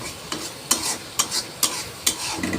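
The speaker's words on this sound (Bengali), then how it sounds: "ভালো করে মশলাটাকে কষিয়ে নিতে হবে না হলে কিন্তু তরকারিতে স্বাদ আসবে না" A spice paste for desi chicken curry is stir-fried in a pan, with a sizzling bed broken by about six sharp spatula scrapes in an uneven rhythm, close and alone.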